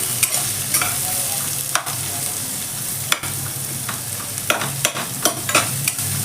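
Sliced onions fry with fennel seeds in a hot pan, giving a continuous sizzle broken by sharp stirring scrapes at irregular intervals, close and fairly loud.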